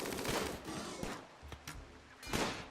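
Squad gunfire in the video game Rimworld, with rapid overlapping bursts of shots and several sharp cracks standing out from the continuous firing.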